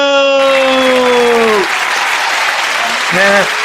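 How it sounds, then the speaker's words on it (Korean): A crowd claps steadily throughout while a held tone slides downward and fades, followed by a short voiced sound near the end. "다 같이 박수!"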